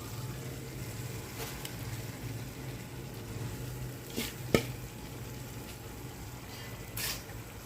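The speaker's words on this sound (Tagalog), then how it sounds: "Sabay natin igisa ang ating alugbati at kamuti," Malabar spinach and sweet potato leaves sautéing in a pan with sardines, a steady low sizzle with occasional stirring scrapes and clinks, no voices.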